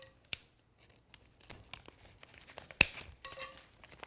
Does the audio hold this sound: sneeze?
no